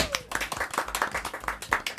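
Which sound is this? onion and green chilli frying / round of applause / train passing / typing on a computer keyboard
round of applause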